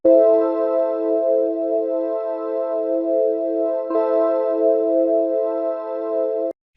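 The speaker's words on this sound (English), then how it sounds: "It can work as a kind of piano and it sounds like this." Serum Synth Keys preset with a piano-like character: a held, buzzy keyboard chord sustaining evenly for several seconds, briefly re-struck midway, then cutting off abruptly, close and alone with no talk.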